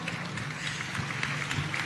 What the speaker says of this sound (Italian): io gli farei un applauso al sindaco